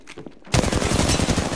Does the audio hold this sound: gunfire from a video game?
yes